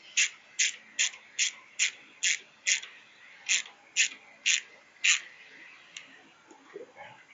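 A ratchet snugging bolts on a Duracell inverter generator clicks in a steady run of about ten close, bright ratcheting bursts, then slows and stops.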